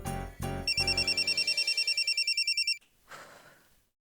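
A telephone rings with an incoming call, a quick electronic trill repeating steadily for about two seconds after a few thumps, then cutting off into quiet rustling.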